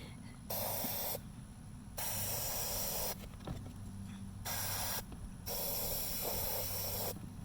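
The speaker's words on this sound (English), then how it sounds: "So you want to spray the inside first" Several bursts of spray paint hissing from an aerosol can onto a pumpkin prop, each lasting about a second, separated by short pauses over a low background rumble.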